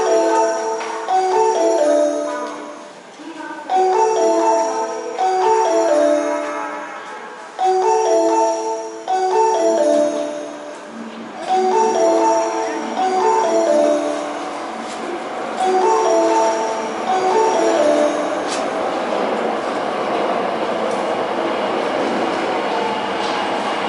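An Osaka Metro 22 series train with Hitachi GTO traction equipment runs between stations, heard from inside the car: a loud, stepped, rising and falling electric motor whine over a rumbling, clattering ride that settles into a steady roar.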